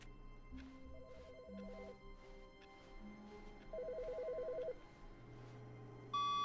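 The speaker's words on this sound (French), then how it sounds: "il y a un téléphone qui sonne" Telephone ringing in The Stanley Parable, an electronic ring with repeated trilling bursts over a steady hum of game ambience, clear and fairly close, with no one speaking.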